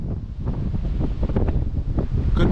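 Strong wind buffets the microphone, a low roaring rumble with gusty surges that rises and falls continuously, loud and close.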